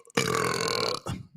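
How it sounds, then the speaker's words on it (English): A single loud, drawn-out belch of about a second, close up, rumbling and rough, followed by a brief voiced grunt. "I decided that I was just going to belch."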